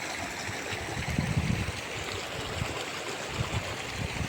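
Floodwater flows across fields and a flooded road after heavy rain, a steady, moderately quiet rushing and gurgling that continues without pause.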